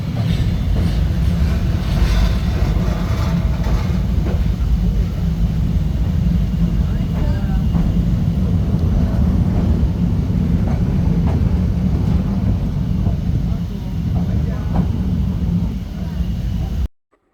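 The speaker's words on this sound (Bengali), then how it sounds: "এই সেতু দিয়ে ট্রেন যখন যায় তখন ট্রেনের সাউন্ড কেমন হয় তা একটু শুনুন" A passenger train on the Kishoreganj to Cox's Bazar route rolls slowly across an old railway bridge, a loud continuous rumble with faint rhythmic clatter heard from on board, steady throughout before cutting off.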